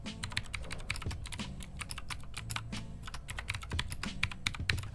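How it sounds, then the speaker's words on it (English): Fingers type quickly on a Lo-Free Bluetooth keyboard with clacky switches, a dense, continuous run of sharp, close clicks played alone without talk. "these are the clacky style of switches"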